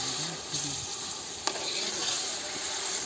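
Onion, tomato and masala sizzle in hot oil as a tadka is given outdoors under a mango tree, a steady close hiss with a brief clink of a utensil midway.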